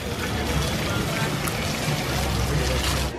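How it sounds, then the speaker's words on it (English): Water flowing steadily through the water clock at Dollywood on a rainy summer day, a constant rushing pour heard close and fairly loud throughout. "Always got to stop and admire the water clock for a little bit."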